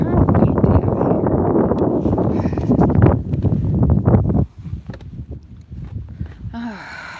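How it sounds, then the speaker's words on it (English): Strong wind buffets the microphone in loud, rough gusts, then drops off abruptly to a quieter, rustling background. "that was a lot of wind out there"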